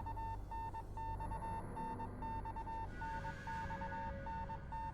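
Repeating Morse code beeps in a video game, a steady tone pulsing in short and long bursts throughout, clear over a low ambient game drone with no talking.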